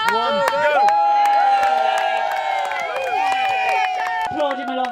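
A crowd at the bog snorkelling championships in Wales claps and cheers loudly and continuously, with whoops and shouting voices layered over sustained applause.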